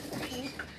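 A breeder pigeon gives a brief soft coo, close but low in level, a single short murmuring call.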